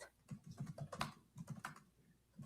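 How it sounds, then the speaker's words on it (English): Rapid typing on a computer keyboard, quiet clusters of quick keystrokes in uneven bursts with short pauses, heard close and alone. "He's typing fast though."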